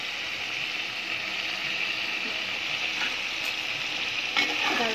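Chicken gravy with ground spice paste cooks in a pan, giving off an even, close, continuous bubbling sizzle with a faint scrape or two near the end, and no talking.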